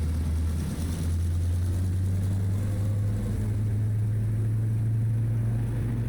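A T-6 Texan radial engine running up in the X-Plane 12 flight simulator, a steady deep droning roar with strong low hum and propeller throb, constant and loud throughout with no speech.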